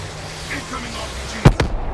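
Explosion in Black Ops 3 multiplayer from an incoming RPG: two sharp, loud blasts close together near the end, over a steady bed of game noise and faint background voices.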